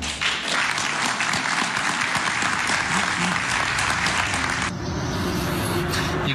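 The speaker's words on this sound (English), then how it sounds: "can hear there, James, the spontaneous applause" Sustained applause from a large audience, steady and loud, fading slightly near the end, with a brief spoken word over it.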